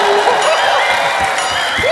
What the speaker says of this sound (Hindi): एक बार फरहान और अर्जुन के लिए जोरदार तालियां